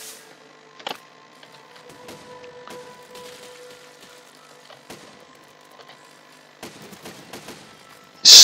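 Scattered sharp booms and crackling bursts of cannon fire in the video game Besiege, some clustered in quick volleys, over a quiet mechanical hum, ending in a loud blast.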